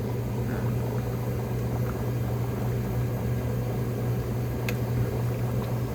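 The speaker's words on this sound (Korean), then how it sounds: "잘 끓고 있습니다, 된장찌개가. 잘 끓고, 감자도 넣고, 양파도 넣고," Doenjang stew with potato and onion boils steadily in a pot, a constant dense bubbling and simmering hiss with a low steady hum beneath, close and unbroken throughout.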